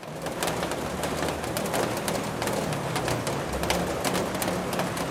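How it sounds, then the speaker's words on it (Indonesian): Steady rain falls outdoors in a continuous close hiss with spattering drops, while pigeons or doves coo in the background throughout. "Nah, hujannya kayak gini ya."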